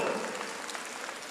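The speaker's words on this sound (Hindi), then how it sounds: "एक बार उनको जोरदार ताली बजा करके धन्यवाद दो" An audience applauds at a birthday celebration for Bageshwar Sarkar at Bharat Mandapam in Delhi, with dense, steady clapping from a large crowd that holds at an even level throughout.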